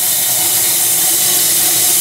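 A steam engine boiler's blower roaring with the fire door closed, a loud, steady, dense hiss of rushing air and steam that holds constant throughout, with no talk over it.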